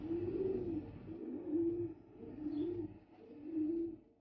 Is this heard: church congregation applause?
no